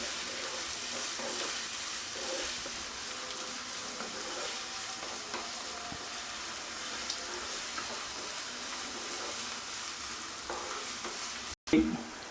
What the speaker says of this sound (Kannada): ಕಟ್ ಮಾಡ್ಕೊಂಡಿರೋವಂಥದ್ದು ಆನಿಯನ್ ಹಾಕ್ಕೊಳ್ಳಿ. ಚೆನ್ನಾಗಿ ಫ್ರೈ ಮಾಡ್ಕೊಳ್ಳಿ ಆನಿಯನು.